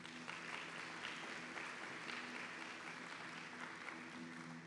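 A crowd claps steadily and continuously, a broad wash of applause that holds at an even level for several seconds.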